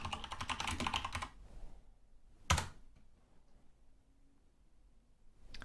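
Someone typing a short command on a computer keyboard, a quick run of close key clicks followed by a single harder keystroke, then quiet.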